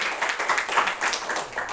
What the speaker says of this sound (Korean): 여기서 박수 한번 주세요